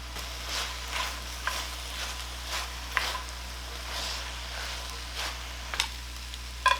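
Fish cakes stir-fry in a pan with chopped peppers and green onions, a soft continuous sizzle under intermittent scrapes and light taps of a utensil tossing the mix.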